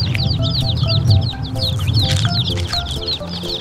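Chickens pecking and clucking while being fed, with rapid chirpy calls repeating throughout, close and moderately loud over low background rumble.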